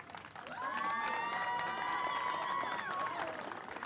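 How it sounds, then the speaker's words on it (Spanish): A crowd at a fifteenth birthday celebration breaks into loud applause and cheering, with whistles and shouts rising over the clapping for several seconds. "Fuerte el aplauso."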